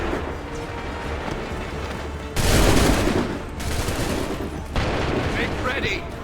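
Soldiers in Assassin's Creed III fire musket volleys as loud, crackling bursts of massed gunfire. Each volley lands as a separate crash, with one at about two and a half seconds and another near five seconds, over a steady din of battle and shouted commands.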